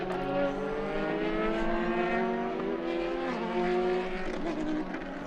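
Race cars pass on a racing circuit in a loud, close rush of engine drone with layered rising and falling harmonic whines that swell and fade as they go by.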